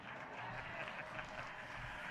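Crowd applause at a public gathering in Arusha honouring the regional commissioner, a dense, steady wash of clapping heard from a distance, faint and even without distinct claps.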